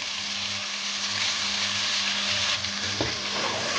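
Chicken sautés in a pan with masala and yogurt, giving a steady close sizzle with soft stirring scrapes and a couple of sharper clatters near the end.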